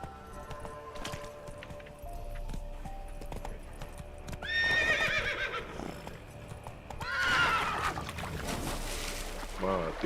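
Roach the horse in a video game whinnies loudly twice over steady clip-clopping hooves, each neigh a bright descending cry against a busy game soundscape.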